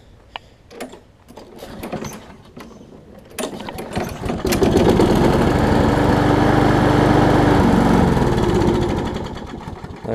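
Craftsman self-propelled lawn mower with freshly worked carburetor: a few scattered rattles and sputters, then the small engine catches and runs loud and steady for several seconds before fading and faltering.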